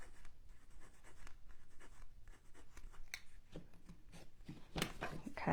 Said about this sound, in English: So I'm going to put my craft stick on there and trace underneath and get the line on both sides